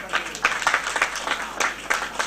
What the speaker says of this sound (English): A round of applause for Fatih.